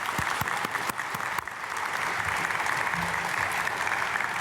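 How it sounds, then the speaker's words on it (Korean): A church congregation at a dawn prayer service breaks into applause, a few distinct claps at first swelling into dense, sustained clapping from a large crowd that fills the room and holds steady. "박수하겠습니다"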